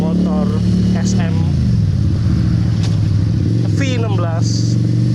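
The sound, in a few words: SM V16 V-twin 250cc cruiser motorcycle riding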